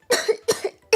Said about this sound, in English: every time I cough, it hurts my throat